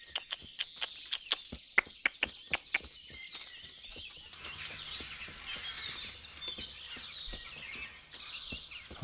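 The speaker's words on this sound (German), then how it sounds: "Vögel aufgescheucht" Birds scattering and chirping in the medieval game Kingdom Come: Deliverance, a burst of sharp, rapid wing flaps and calls up close at first, then a busier, softer twittering chorus that continues in the background.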